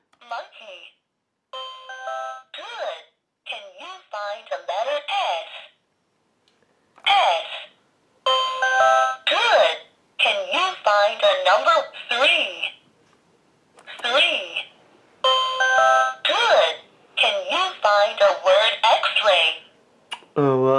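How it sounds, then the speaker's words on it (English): A phone rings in short electronic bursts of tones, repeating at intervals and close by. It sounds alongside beeping and chirpy synthetic speech from a children's learning tablet. "Oh, that's my phone ringing."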